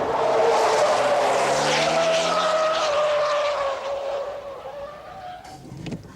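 An Alfa Romeo 90 sedan skids into a spin, its loud engine whining and sliding down in pitch over several seconds before the sound fades, with a short scrape or thump near the end.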